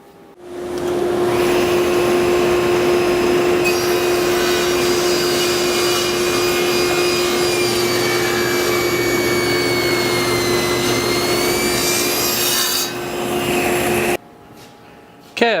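A saw cuts wooden pieces for cutting boards, a loud, steady whining roar that starts up, holds for about thirteen seconds with a sustained tone, then stops abruptly.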